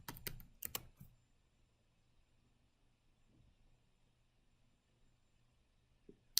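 Computer keyboard typing out an npm install Express command: a quick cluster of close, crisp keystrokes at the start, then near silence with a low hum, and a single sharp tap at the end.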